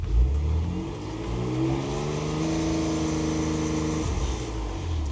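A Porsche Macan engine is revved while warming up, rising from a rumble into a steady, climbing drone that holds, then drops back toward idle; loud and close, with no talking.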